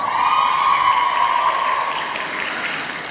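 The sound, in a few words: graduation audience applauding the teachers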